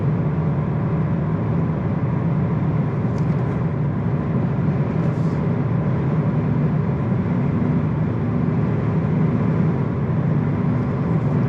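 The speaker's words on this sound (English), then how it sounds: "that wind noise, you can definitely hear it" Steady broadband wind and road roar inside a 2024 Mazda MX-5 Miata RF Grand Touring retractable fastback hardtop while driving on a breezy day, a constant loud rushing wash with no speech.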